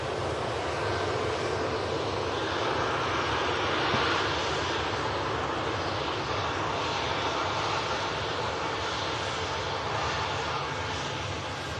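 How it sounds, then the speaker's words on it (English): Ryanair airliner engines roar steadily at a distance as the reverse thrust is stowed, a broad sustained rush that holds level without breaking. "Still got the reverses out there on the Ryanair."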